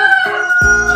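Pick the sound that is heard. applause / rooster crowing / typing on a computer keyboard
rooster crowing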